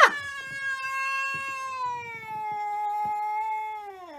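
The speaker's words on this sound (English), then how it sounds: "Okay, cat. Can I just get past here?" A cat guarding a home lets out one long, drawn-out caterwauling meow, loud and close, holding a wavering tone for several seconds with faint shuffling behind it.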